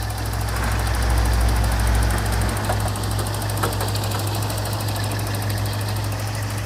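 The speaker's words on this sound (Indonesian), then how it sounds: "Mesinnya seperti ini ya. 1800 cc bahan bakar bensin." A 2001 Toyota Kijang LGX with a 1.8-litre EFI petrol engine idles steadily up close, a smooth, even hum with a low rumble and no voices over it.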